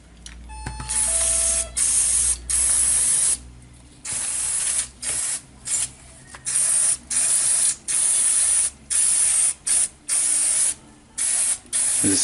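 Aerosol cleaner sprays in repeated bursts into a Paslode framing gun around its fan motor, loud hissing blasts of about half a second to two seconds each, separated by short pauses, close and alone.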